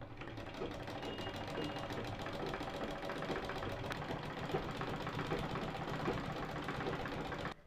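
A sewing machine stitches all the way around a designer sling bag, running in a steady, fast mechanical chatter at moderate distance for several seconds with no pauses.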